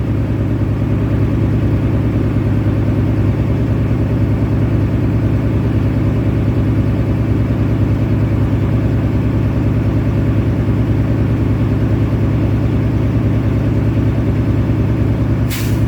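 A large truck engine idles steadily in a combination vehicle with a low, constant rumble, unchanging throughout and with no voices.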